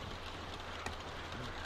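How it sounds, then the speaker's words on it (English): Steady rain pours in The Walking Dead video game, a constant broadband hiss filling the short scene with one faint brief tick partway through and no talking. "Sitting out in the rain like a damn deer."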